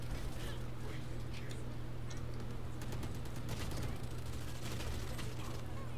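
Gunfire in the shooter game Valorant, rapid cracks and bursts of shots layered over a constant game hum and fairly faint in the mix, with voices talking at times.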